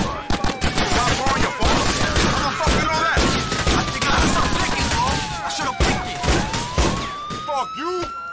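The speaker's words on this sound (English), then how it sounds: "we got ourselves a brand new shotgun, the AA-12" An AA-12 automatic shotgun fires in GTA The Ballad of Gay Tony as a rapid string of loud, sharp blasts. A wailing siren rises and falls behind the shots, and voices talk over the gunfire.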